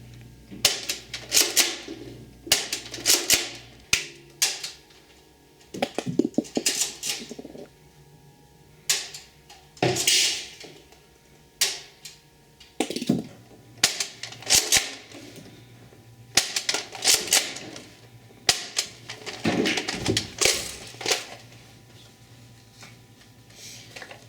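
Nerf Vortex Vigilon disc blaster shooting rounds across a 60-foot range, a string of sharp, snappy pops in quick bursts separated by pauses and a reload, close and fairly loud.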